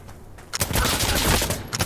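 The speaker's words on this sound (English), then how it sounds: "this World War II gun, this grease gun, is doing pretty good" A World War II M3 grease gun fires in a video game, a dense burst of automatic gunfire that starts after a quiet half second and rattles on loudly for over a second before cutting off.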